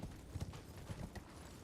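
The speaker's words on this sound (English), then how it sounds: "Up on your horse." Horse hooves gallop in Elden Ring, a quick rhythmic clip-clop of steady hoofbeats at close range, heard alone with no talk.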